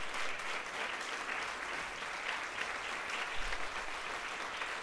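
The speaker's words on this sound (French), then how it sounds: "On peut l'applaudir très très fort." A small-venue crowd at a French solo comedy show applauds a comedian, a steady wash of clapping that holds evenly for several seconds with no talk over it.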